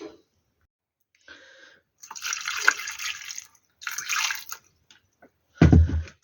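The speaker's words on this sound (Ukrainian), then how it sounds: "Все, заливаю водою." Water pours in intermittent bursts into a pot of stewing mackerel with bay leaf, splashing and gurgling close by between short pauses, ending in a louder clatter.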